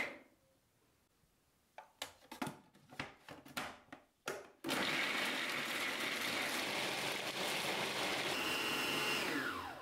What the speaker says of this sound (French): Je hache les fèves et les pois chiches.